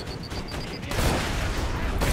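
Gunfire in the video game Borderlands 2, a dense burst of rapid shots and blasts filling the whole two seconds, loud and close, preceded by a brief beeping tone.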